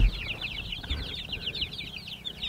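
Backyard egg-laying hens in a tarp-covered chicken tractor setup cluck and chirp in a quick, steady chatter throughout, close by, with faint low rustling underneath.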